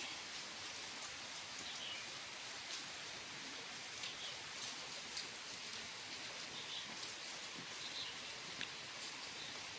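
Steady rain pours down across a courtyard and paths, a dense, even hiss that goes on without pause, with faint scattered drops standing out now and then and no voices.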